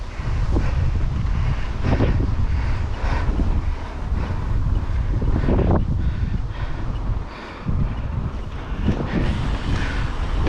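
A strong gale blows outdoors with a steep uphill headwind, roaring loudly and steadily against the microphone with heavy low buffeting and no voices.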